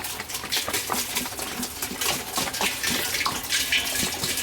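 RV antifreeze poured by the gallon into a 1993 Sears Kenmore or 2011 Inglis top load washing machine, a steady close liquid splash and patter running continuously without talk.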